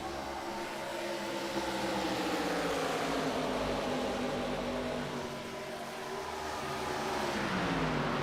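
Race cars lapping Charlotte in an iRacing sim race, three cars close together, their engines a loud continuous whine with pitches rising and falling in layers through the whole stretch.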